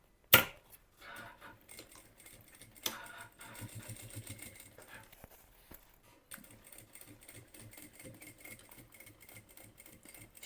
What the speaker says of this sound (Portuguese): Vou entrar aqui com a peça na máquina.